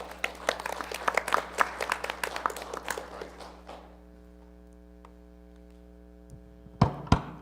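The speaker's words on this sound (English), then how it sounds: "Can we give her a round of applause?" Applause for a student of the month at a board of education meeting. A scattered crowd claps for about four seconds, then the room falls quiet apart from a steady electrical hum. A couple of sharp knocks or footsteps follow near the end.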